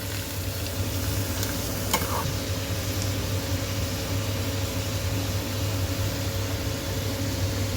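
Onions and tomatoes cooking in a pan with salt for street-style masala puri, a low steady hiss of frying under a constant background hum, with a faint clink or two of a utensil.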